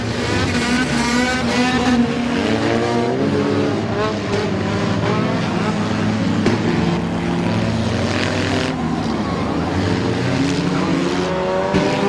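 Race cars roar past together at Midvale Speedway during a crazy 8 race, a loud, dense, continuous engine drone with shifting pitch as they pass close by throughout.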